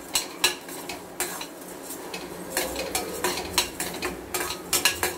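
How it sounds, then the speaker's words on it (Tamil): Coriander seeds and cumin dry-roasting in a pan for an anchovy fish curry, stirred with a metal spoon that makes repeated close scraping clinks in a loose rhythm over a light crackle. "ஏன்னா சீக்கிரமே வந்து ஃப்ரை ஆகிடும் கொத்தமல்லியும் சீரகமும்"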